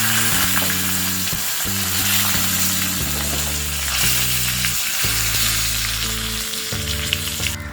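Steady, loud sizzling of dried red chilies, green chilies and curry leaves frying in hot oil for a tadka, crackling continuously throughout with no talking.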